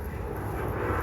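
A fixed-wing airplane from a small nearby local airport drones steadily overhead, a continuous low engine rumble with broad noise that holds at an even level without fading.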